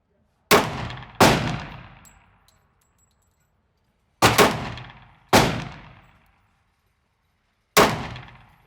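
Smith & Wesson M&P 10mm pistol firing five loud, sharp shots in irregular pairs and singles, each with a booming, ringing decay of about a second, close and with no talking.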